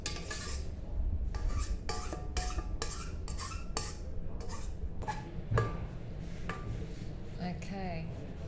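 Utensil scraping around the sides of a mixer bowl of gluten free icing, a run of sharp clinking scrapes repeating quickly, close and moderately loud over a steady background.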